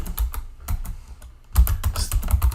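Rapid bursts of clicking keystrokes on a computer keyboard, close and crisp, with a short lull before a denser flurry of typing text.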